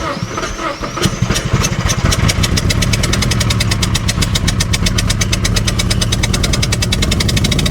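A Datsun B210 engine fires up and runs rough with one cylinder misfiring, giving a loud, close, uneven rhythmic chugging that steadies somewhat as it keeps going.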